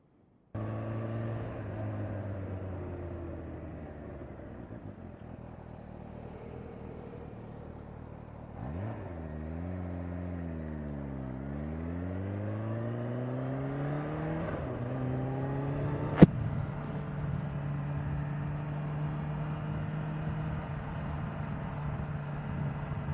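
A supercharged Kawasaki H2 motorcycle engine hums at a steady drone, then dips and climbs through rising and falling revs before settling into a louder, sustained roar with a single sharp click partway through.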